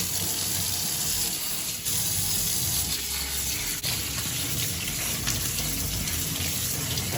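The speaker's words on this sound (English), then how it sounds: "I'm still gonna rinse it one more time" Cleaned squid rinsed under a running kitchen tap, a steady, loud rush of water splashing continuously with only slight changes in tone and no one speaking.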